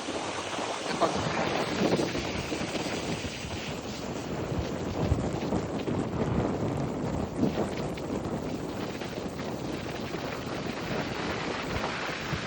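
Strong wind roars and buffets the microphone continuously while sea waves wash and churn underneath, steady and loud throughout.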